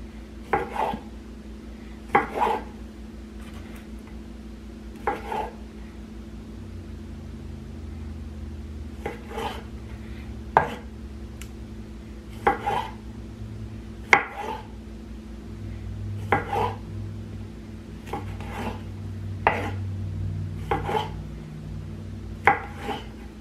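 Knife chopping tomatoes into quarters on a cutting board for a slow cooker beef vegetable soup, sharp regular thunks spaced a couple of seconds apart, close and clear with no talking.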